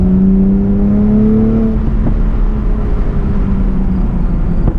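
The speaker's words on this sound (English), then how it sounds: "We'll put it in sport mode now." Loud, steady exhaust drone from a 2020 Chevrolet Camaro RS V6 1LE in sport mode while accelerating, a low engine tone that rises and shifts in pitch under continuous road rumble, heard from the cabin with no talking.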